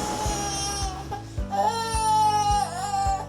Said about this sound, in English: you might hear a baby crying.